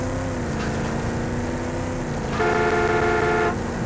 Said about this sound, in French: Donc ça, c'est bien notre klaxon.